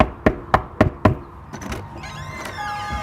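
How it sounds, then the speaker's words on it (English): Four firm knocks land on a door in an even rhythm, close and distinct, followed by softer rattling and faint indoor sounds. "And knock on the door."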